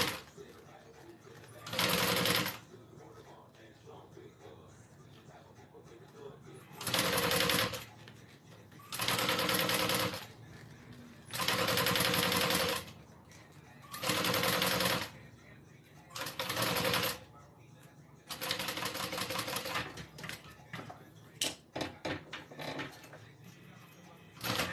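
A sewing machine runs in about nine short, even bursts as it stitches a folded wallet closed, each burst loud and close with quiet pauses between them.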